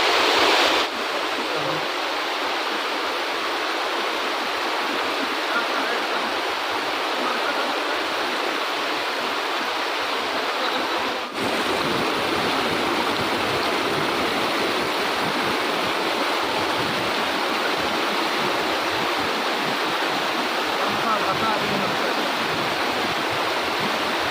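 A waterfall at a park pours in a steady, dense roar of rushing water, broad and unbroken for the whole stretch, with no talk audible over the constant hiss and churn.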